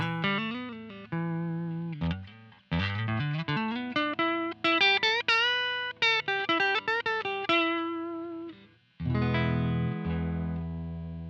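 Clean electric guitar tone played through an amplifier, a sequence of clear plucked notes and chords with ringing sustain, each decaying before the next, ending on a held chord.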